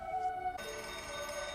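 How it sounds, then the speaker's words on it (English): A telephone rings in a film scene: a tonal ring that shifts partway through into a denser, brighter ringing, with no speech over it. "Why is he not picking up the phone?"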